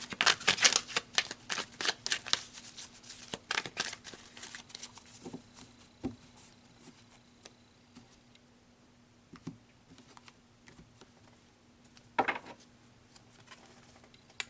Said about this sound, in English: So let's pull some more cards and clarify the dice a bit deeper.